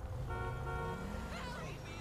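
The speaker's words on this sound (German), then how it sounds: "Ja, hupen sie mal nicht so rum." A car horn honks in the GTA V game world, a tonal toot sustained for most of the clip over road traffic, with someone talking over it.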